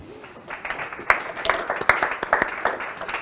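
An indoor audience claps for a volunteer coming up, with scattered, uneven hand claps building after a second and continuing in irregular bursts, with a few voices over the claps.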